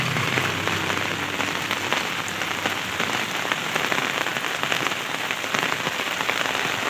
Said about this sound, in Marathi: आता वरनं पाऊस पण पडलाय